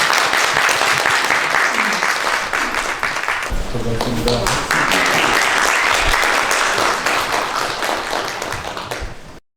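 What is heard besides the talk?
audience applause welcoming speaker to podium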